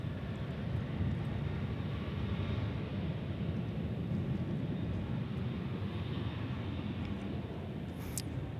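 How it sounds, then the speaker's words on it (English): A Boeing 737-800 on the runway at DFW airport builds jet engine roar for takeoff, a steady broadband rumble heard from a distance and sustained throughout with no talk. "So we got a 737-800 getting ready to take off."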